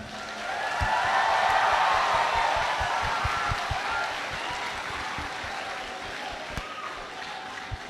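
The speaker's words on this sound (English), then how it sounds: "appreciate and thank them by clapping for them as loud as you can." A graduation ceremony audience claps loudly and steadily, the applause swelling early, then tapering slightly but continuing throughout with scattered individual claps audible.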